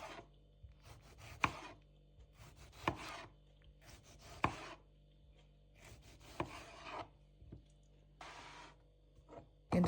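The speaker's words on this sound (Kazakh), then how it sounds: "Енді осылай жұқа етіп турап аламыз" A knife slices two tomatoes thinly on a board, making a series of crisp chopping strokes in short bursts, each ending in a sharp tap, close by and moderately loud with no talking.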